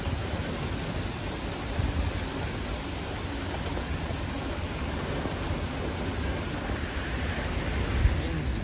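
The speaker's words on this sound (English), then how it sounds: "Rain really picking up." Steady heavy rain hisses down in a nighttime thunderstorm with damaging wind gusts, an even, dense wash of drops with faint rumbling beneath and a slight swell near the end.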